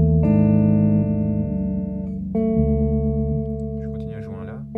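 Electric guitar holding an A note through a Red Panda Tensor pitch-shifting pedal as the transposition is lowered, producing a sustained, processed tone that steps down in pitch with buzzy low overtones.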